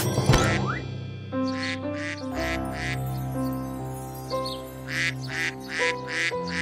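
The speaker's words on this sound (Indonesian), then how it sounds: "itik tercekik" A cartoon duck quacks repeatedly in short, bright bursts over a sustained musical backdrop, the calls coming in an uneven, strained rhythm as if the bird is choking.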